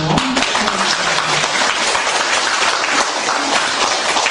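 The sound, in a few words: applause at a Won Buddhist ceremony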